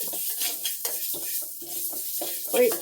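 Urad dal roasting in a pan, quiet stirring scrapes and light crackling come in short repeated bursts with gaps between them, close by, with a faint sizzle underneath.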